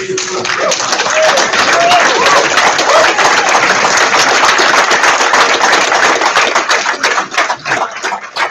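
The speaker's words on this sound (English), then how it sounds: "clap your hands, and bring Mr. Hugh" An audience claps steadily to welcome a speaker to the stage at a real estate seminar, a dense, loud wash of hands throughout with a few cheering voices early on, thinning toward the end.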